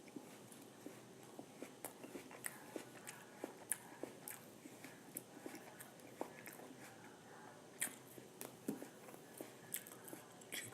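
Close, quiet crunching bites and chewing of cucumber slices topped with hummus and salsa, eaten outdoors at a bushcraft camp; soft irregular crisp clicks and mouth sounds repeat steadily throughout with no talk.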